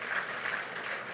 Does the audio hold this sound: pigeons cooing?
no